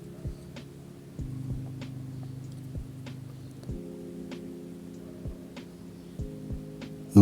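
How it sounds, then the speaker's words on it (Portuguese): A sewing machine and overlocker stitch the crotch seam of a men's scrub, giving a steady mechanical hum that stops and restarts in several runs, with faint ticks between them. "Então eu costurei e overloquei o gancho, pessoal."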